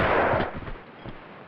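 A shotgun blast in the Tomb Raider 2 video game fires once loudly at the start, then a fainter second report about a second later, with no talking.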